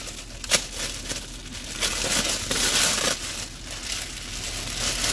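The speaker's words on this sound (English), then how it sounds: "Sorry about the noise for the wrapper." Plastic wrapper crinkling and crackling in bursts at a convention, with some sharp crunchy peaks, close and fairly loud throughout without voices.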